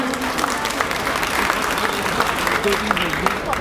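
Crowd applause at a Bahujan Samaj Party rally in Meerut marking Kanshi Ram's birthday: steady, dense clapping fills the whole stretch, with a speaker's voice faintly over it.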